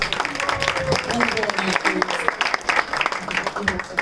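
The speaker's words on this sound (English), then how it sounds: "Let's give a last round of applause." An audience at a Sunday School gala presentation gives a round of applause, with dense, uneven clapping throughout and voices talking and calling out over it.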